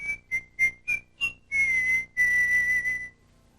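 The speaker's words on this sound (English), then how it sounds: "You can use your breath to whistle" Someone whistles a short tune alone: five quick chirpy notes followed by two longer held tones, clear and close.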